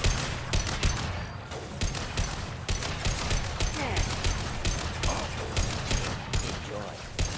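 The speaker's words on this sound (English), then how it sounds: "Firing an impact gun." Impact gun firing in Mass Effect 2, a regular rhythm of punchy repeated shots about every half second amid ongoing combat noise, with voices talking over it.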